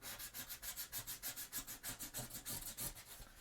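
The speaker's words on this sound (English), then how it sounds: "Other than just sanding things." Cosplay chainsword prop being hand-sanded, a steady rhythmic rasp of back-and-forth strokes, close and fairly quiet, repeating evenly about six times a second with no talking.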